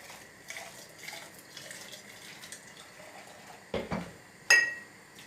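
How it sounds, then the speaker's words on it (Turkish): Boiled water poured from a pot into glass jars for sterilising, a soft running trickle with a few sharp glassy clinks and knocks of the jars near the end, quiet and close with no talk. "Şöyle kaynattığım suyu kavanozların içerisine dökeceğim."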